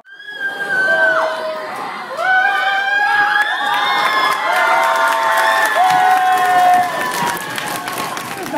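A high school audience at a Finnish graduation celebration shouts, screams and cheers together loudly, with high excited voices rising and overlapping in sustained waves.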